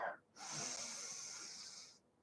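One long, steady, close breath drawn in during a Pilates mat exercise for hip flexibility, airy and hissing, lasting well over a second and heard alone.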